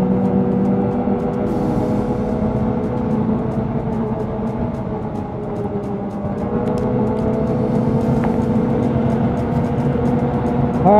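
A Ski-doo snowmobile rides along a snowy trail with a loud, steady engine drone that holds a strong tone and dips and rises slightly in pitch.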